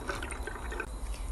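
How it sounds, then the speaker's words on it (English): Water poured into a rain gauge cylinder, a short burst of splashing, trickling liquid with small drips, heard up close and alone. "So 1/2 inch water was poured into the cylinder."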